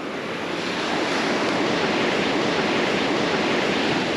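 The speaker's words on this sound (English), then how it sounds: "right where those waves start coming up" Ocean waves break on a beach during surf fishing, a steady loud broadband rush of surf with wind across the microphone and no talking.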